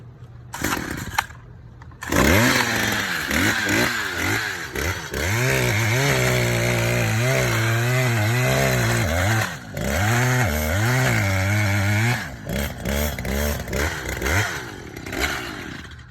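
Loud motorized engine roar with revving that rises and falls, a powered auger drilling a hole in the ground for planting seedlings, running steadily for most of the time.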